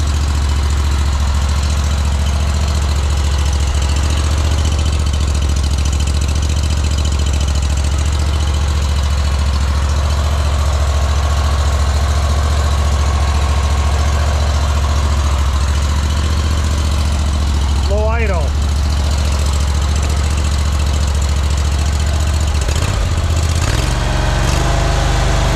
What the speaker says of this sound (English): Look at how that engine has smoothed out.